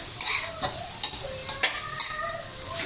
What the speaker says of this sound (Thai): ผัดให้เห็ดสุกนะคะ ผัดกะเพรา เห็ดนะคะใส่ ไก่สับนะคะ